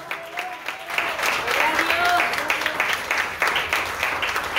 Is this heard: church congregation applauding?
yes